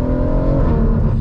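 BMW M140i tuned to Stage 2 with around 480 bhp, accelerating hard with traction control switched off, a loud, steady engine drone rising in pitch and heard close up from inside.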